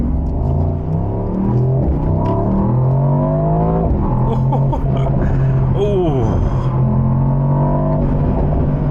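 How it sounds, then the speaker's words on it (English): A loud V8 engine in a Mercedes-AMG GT in Sport Plus mode revs up close, its deep roar climbing and dropping in pitch as the car accelerates hard, droning steadily throughout. "Oh, listen to that V8."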